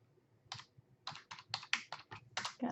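Fingers type on a computer keyboard while entering math code, a close, quick burst of clattering keystrokes in uneven clusters with short pauses.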